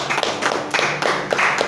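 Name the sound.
congregation clapping for the Lord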